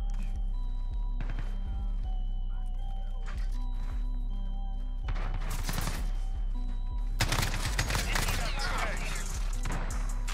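AEK-971 rifle gunfire in the game Modern Warfare, with sharp single shots and short bursts scattered across the stretch and two dense, loud volleys in the middle and later part, over a steady game hum.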